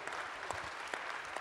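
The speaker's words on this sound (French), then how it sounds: "Jean Lassalle, on peut l'applaudir," Audience applauding Jean Lassalle at a political plenary session, a brief dense patter of clapping from a crowd, even and sustained with no voices over it.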